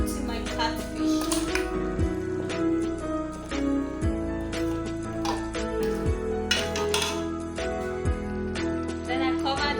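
Egusi soup being stirred in a cooking pot with catfish added, light clinks and scrapes of a utensil against the pot under a steady background tone, with a person talking over it.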